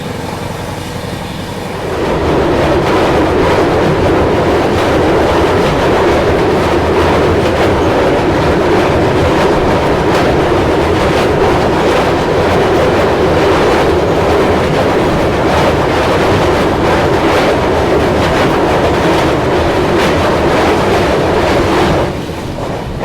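Humsafar Express train running on the rails, a loud steady rumble with rhythmic clatter that holds for about twenty seconds, then drops away near the end.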